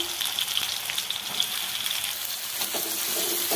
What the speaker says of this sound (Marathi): तर कांदे मी अगोदर आहे ना तेलामध्ये टाकीते। हे बघा तेल चांगलं टाकलंय।